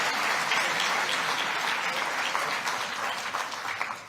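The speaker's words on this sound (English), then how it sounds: "And for that, you must give some round of applause." A symposium audience on sustainable infrastructure development gives a round of applause: dense, steady clapping from a full room that stays loud throughout and eases off slightly at the end.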